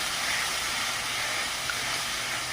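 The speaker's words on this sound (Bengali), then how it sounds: "মশলাটা ভালো করে ভেজে নেব।" Bengali spice paste with chopped green chillies sizzling in hot oil in a wok for a koi fish and cauliflower curry, a steady close broadband hiss and crackle throughout with no talk.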